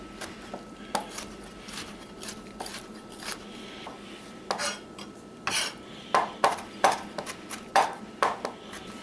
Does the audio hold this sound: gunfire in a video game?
no